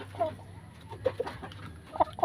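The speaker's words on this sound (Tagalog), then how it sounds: "Binili kong inahin na manok na puti." A white breeding hen, not yet laying, clucks softly several times in short irregular bursts, close by, over a faint background hum.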